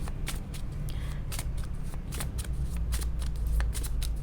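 Romance Angels oracle cards being shuffled, a steady run of close, crisp riffling and slapping card sounds with no talk over them.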